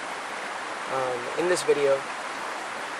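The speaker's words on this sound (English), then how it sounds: "the stream that's actually flowing through" An outdoor stream rushes steadily in the background, a constant soft hiss of flowing water that runs under a short spoken phrase.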